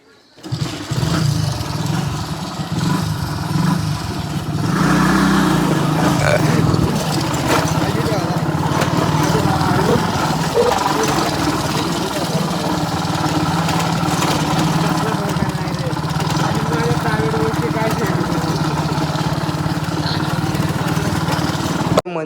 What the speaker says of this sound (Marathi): आमची गाडी बंद पडली, आता चालू करतो.